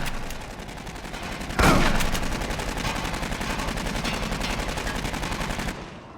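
Sustained rapid automatic gunfire in Aliens: Colonial Marines, a dense rattling stream of shots with one louder burst partway through, loud and continuous, with no voices.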